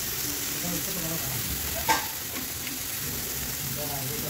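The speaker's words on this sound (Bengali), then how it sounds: "জিরাগুলো দিয়ে দিচ্ছি হালকা করে। লঙ্কাগুলো দিয়ে দিলাম।" Cumin, coriander and chillies fry in hot oil with chilli paste, a soft continuous sizzle and one brief clatter near the middle, quiet and close.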